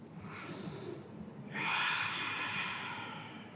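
A person breathes during a Vinyasa hip-opening yoga flow: a softer inhale, then a strong, airy exhale that swells and holds steady close to the microphone.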